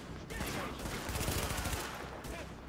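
Gunfire in The Division, a dense, continuous barrage of close shots and bursts filling the scene, with voices calling out underneath.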